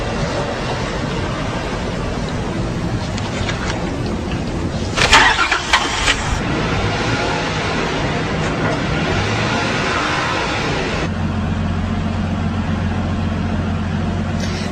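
HHO hydrogen gas powered car engine cranks and catches with a short burst, then settles into a steady, even idle with a low droning hum that continues to the end.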